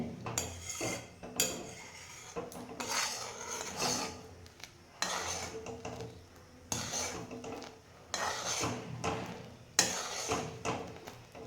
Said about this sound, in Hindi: इस दूध को थोड़ा और गाढ़ा करना है, इसलिए हम इससे लगातार चलाते रहेंगे।